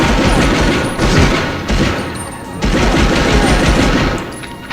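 Rapid bursts of gunfire from the Medal of Honor video game, dense and loud, in several sustained volleys with brief dips between them and no talking.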